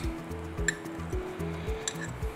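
Garlic and onions sizzling in olive oil in a pan: a steady, close hiss of frying with a couple of light metallic clinks, and no talking.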